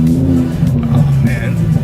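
A Lamborghini Huracan engine rumbles and revs loudly behind the occupants, a deep sustained growl with rising pitch, while people talk over it inside the car.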